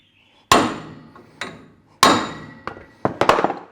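Several close, ringing blows of a brass hammer on a brass drift during a Toyota LandCruiser Hilux rear axle bearing overhaul, a few spaced out and then a quick flurry of three or four at the end.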